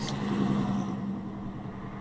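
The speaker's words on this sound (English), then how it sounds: "Nice truck." A truck drives by outdoors with a steady, mid-pitched engine rumble that slowly fades as it moves off.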